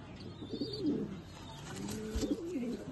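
Pigeons being readied for a winter flying tournament coo in low, rolling phrases, two clear bursts close by over a faint background, with a light chirp and no talking.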